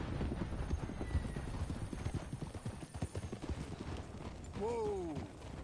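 Steady clip-clop of horse hooves on hard ground in a video game, Red Dead Redemption 2, followed by a short whinnying neigh near the end, with faint ambient noise behind.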